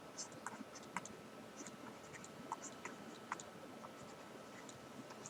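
Chalk or pen writing during a math lecture: faint, scattered scratchy ticks and short strokes at an irregular pace over a quiet room hiss, with no speech.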